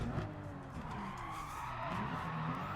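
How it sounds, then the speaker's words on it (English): A car sliding sideways while drifting in Gran Turismo 7, a continuous tire squeal and skid over a droning race engine, steady and close for the whole stretch, with no talking. "The car just keeps sliding around."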